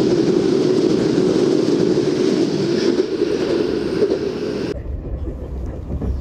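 Kuroshio limited express train running near Osaka Station on the Umeda freight line, a steady loud rumble of wheels and motors that drops away abruptly near the end, leaving quieter low-frequency rumble.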